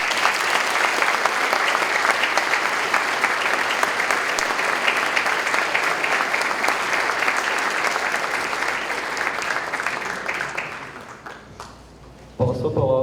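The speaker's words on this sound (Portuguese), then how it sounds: "é muito aplauso para Vossa Excelência" Sustained audience applause fills a university lecture hall after a speech at a magna lecture, dense and steady for about eleven seconds before thinning out, with a brief burst of noise at the end.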